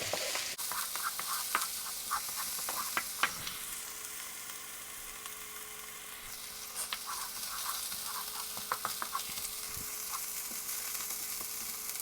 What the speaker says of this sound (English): we're just going to saute these in the bottom of our wok here for, about a minute or so, till they get nice and fragrant